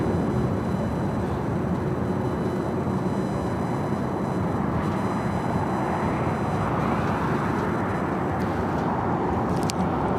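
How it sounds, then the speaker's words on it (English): A Delta Airlines Boeing 757-200 arriving at LAX makes a steady, loud engine roar and rumble that holds throughout, with a faint whine above it. "Delta 757 coming in from San Salvador, 757-200, Delta Airlines flight 1966"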